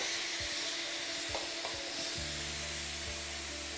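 A Silit pressure cooker vents its steam in a steady, loud, broadband hiss that fills the whole stretch, with a few low clicks and a faint hum joining partway through.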